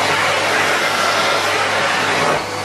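A Miele C3 vacuum cleaner running at maximum suction, a loud, close, steady motor roar with a high whine, dipping slightly just before the end, with no voices.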